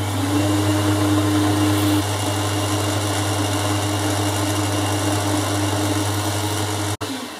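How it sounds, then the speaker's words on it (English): A steady, loud machine whine with a constant hum as a 4mm hole is drilled straight through metal, cutting off abruptly near the end. "I'm just going to drill a 4mm hole straight through that."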